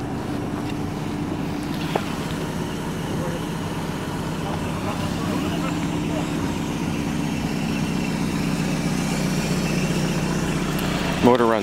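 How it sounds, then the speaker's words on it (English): A supercharged 1988 Toyota MR2 engine runs at a steady idle, a constant low hum and drone throughout, with a brief rattle near the end. "Motor runs great,"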